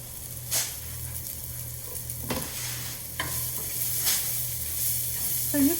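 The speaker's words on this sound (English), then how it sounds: "So this is a good time to add our garlic." Garlic sizzling as it goes into a hot pan with green beans, a soft continuous frying hiss with a few stirring scrapes and clinks, fairly quiet and close.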